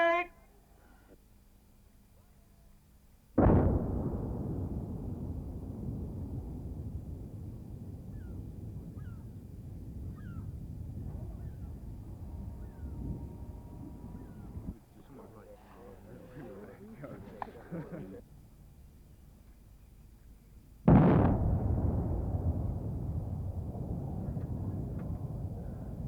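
Buried shells detonated with beehive charges go off in two loud, deep blasts, each followed by a long rumbling roar that slowly fades, with a narrator talking in between.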